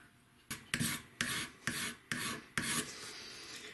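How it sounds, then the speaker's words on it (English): Hand sanding on a wooden gun stock for a snaphaunce musketoon: six rhythmic rasping strokes, each a sharp scratchy onset followed by a sustained rub, close and clear with no talking. "I'm going to do the final sanding."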